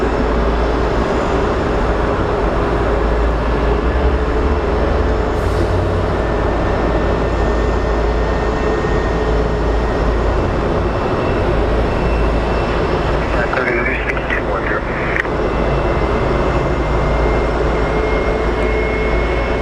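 Jet airliner engines roar steadily at Sky Harbor Airport, a loud, continuous low rumble with a thin high whine, and a person talks briefly partway through.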